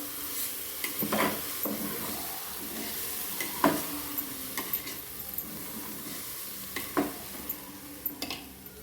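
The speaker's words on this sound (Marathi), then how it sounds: "सर्व तांदूळ याच्यात टाकून द्यायचे आपल्याला आणि हे एकदा छान हलवून घ्यायचे" Rice stirs through a hot, oiled pan with a constant low sizzle, punctuated by a handful of distinct spatula scrapes and knocks against the metal, close and clear, with no talking.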